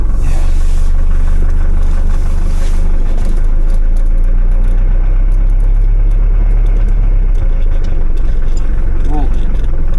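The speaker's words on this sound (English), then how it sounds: "And here the lovely engine sound." A 1979 Mercedes-Benz W123 engine heard from inside the cabin while driving, a loud, steady low rumble with constant road noise, and people talking briefly over it.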